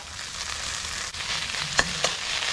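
Close sizzling and crackling of noodles stir-frying in a hot wok for Thai duck kua noodles, with a couple of sharp clanks of a utensil against the metal.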